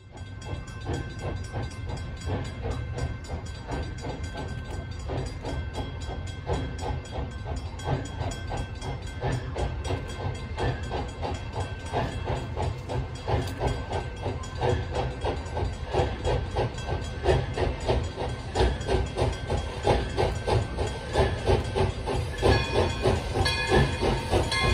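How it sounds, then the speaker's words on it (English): The Pere Marquette 1225 steam locomotive works through the night on the North Pole Express run, with a steady, rhythmic chuffing and constant hissing steam, loud and close for the whole stretch. "catch the night run of the North Pole Express led by the Pere Marquette 1225"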